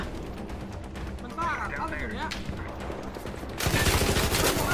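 Gunfire in the shooter video game ARC Raiders: dense rapid shots crackle continuously under excited talk and grow louder and harsher toward the end.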